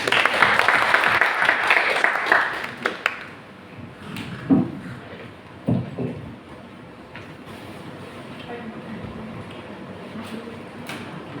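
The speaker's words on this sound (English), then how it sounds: "Please give your round of applause." Workshop audience greets the speaker with applause at a peacebuilding storytelling session, clapping strongest at first and tapering off after about three seconds into scattered claps and room noise.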